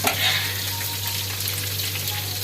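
Squid frying and browning in a pan for adobong pusit: a steady hissing sizzle with light crackle, close and even in level, over a low constant hum, no voices.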